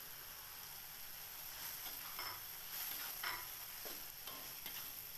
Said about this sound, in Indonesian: Kita aduk terus.